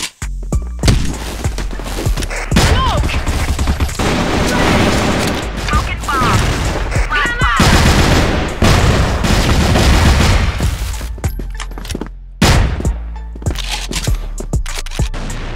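Loud video game combat with a grenade explosion and bursts of gunfire, dense booms and sharp cracks layered over game sound and a talking player, with a brief near-silent break before the blasts resume.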